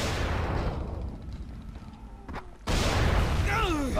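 Explosion in the survival horror video game Dying Light, a blast at a jumpers' nest: a loud broadband rumble that fades, then a sharp second burst that swells to full loudness with crackling debris.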